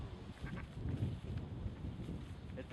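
Farm animals in a permaculture garden and pond system with ducks and goats, with faint bleating and quacking-like calls scattered over low rumbling background noise.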